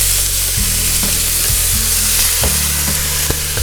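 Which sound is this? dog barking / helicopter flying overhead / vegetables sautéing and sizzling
vegetables sautéing and sizzling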